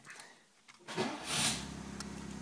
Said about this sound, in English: I'll start it up for you too, just so I can hear it run.